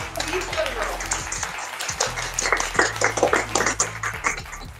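An audience at a Saraswati Puja song event claps after a performance, a burst of rhythmic close hand claps mixed with talking.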